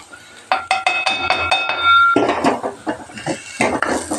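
Metal spoon clinking and scraping against a pan as raw banana curry with chilli, coriander, garam masala and turmeric powders is stirred, a run of bright, close clinks and scrapes.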